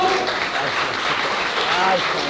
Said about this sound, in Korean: 승리하신 예티 선수께 큰 박수 부탁드리겠습니다